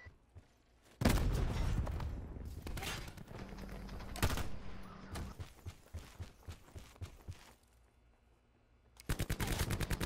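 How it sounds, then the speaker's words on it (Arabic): Fajr weapon gunfire in Call of Duty Black Ops 4 team deathmatch: a loud opening burst, then scattered single shots and short volleys fading into a quiet stretch before a rapid automatic burst closes it. "هذا سلاح الفجر"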